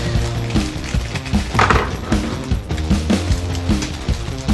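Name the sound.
bolts screwed together on a Motocompo engine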